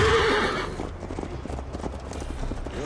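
Horses ridden in Assassin's Creed Valhalla trot with steady hoof clip-clops and a whinny at the start, close and continuous across the ride.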